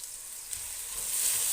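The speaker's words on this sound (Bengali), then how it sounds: "তেলের মাঝে পেঁয়াজটা ভেজে নিচ্ছি" Onion frying in hot oil in a pan, a continuous close sizzle that grows slightly louder over the short stretch.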